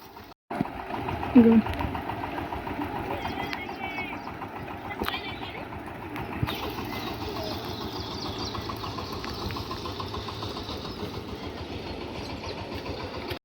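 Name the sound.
tractor engine running in paddy field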